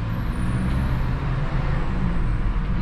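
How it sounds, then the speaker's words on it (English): Seat Leon FR 2020 car engine running steadily inside a garage with the window lowered, a continuous low rumble at even loudness with no talk. "you can hear the engine"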